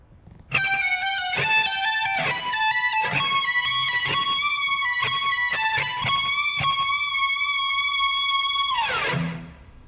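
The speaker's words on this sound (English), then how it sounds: "Now we're going to work our way up the neck using hammer-ons and pull-offs." Distorted electric guitar plays a quick lead line from a solo, rapid hammer-ons and pull-offs climbing up the neck, ending in a fading sustained note.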